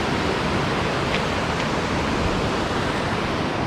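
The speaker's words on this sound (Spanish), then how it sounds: "Impresionante el ruido, la energía y la belleza de este lugar." Roaring rush of the Bao river, a steady loud broadband torrent of water heard close up, unbroken for the whole stretch with no voices over it.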